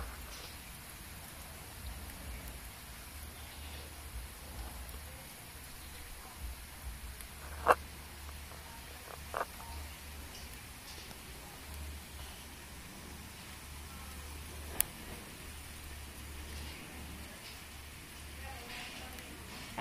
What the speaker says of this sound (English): I'm recording it, and it's a lot of rain.